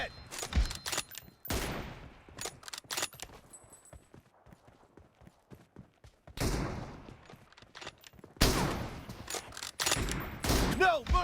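Rapid bursts of gunfire in a video game where an M24 sniper rifle is used, loud sharp cracks in dense clusters separated by quieter stretches of scattered thuds.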